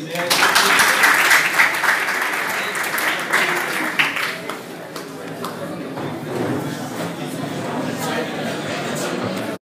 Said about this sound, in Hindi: जोर से तालियां प्लीज